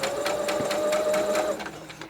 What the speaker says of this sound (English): now I do a couple back stitches and then continue